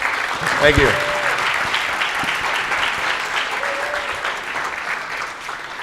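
A conference audience applauds after a web security talk, continuous crowd clapping lasting several seconds, briefly joined near the start by a voice.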